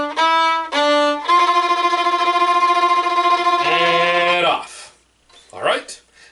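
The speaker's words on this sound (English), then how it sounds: "And what we often like to do with that one is on the F natural, do a tremolo." Solo violin plays the Happy Birthday melody with sustained bowed notes, one held note given a fast tremolo wiggle, followed by a short pause and a brief sliding sound at the end.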